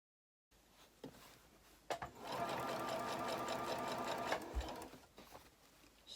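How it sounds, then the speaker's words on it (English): A sewing machine bastes the facing of a kimono-style jacket, a quiet rapid whirring run of stitching lasting a couple of seconds, framed by soft handling clicks and taps of fabric before and after. "I'm going to sew the folded edge in and baste that to the and baste the facing to the jacket."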